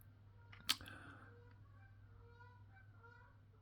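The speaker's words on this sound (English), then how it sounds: "we've got a load of geese in the field next to the caravan site" Geese honk faintly in the distance from a field beside a caravan site, over a low steady hum, a few calls overlapping, with a sharp click near the start.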